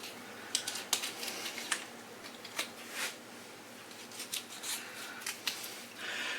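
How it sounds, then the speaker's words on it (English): A kitchen knife slicing rolled German ham (Rollschinken): quiet, crisp little cutting clicks and scrapes come in irregular clusters against a faint, steady room background. "And now I cut the center out here."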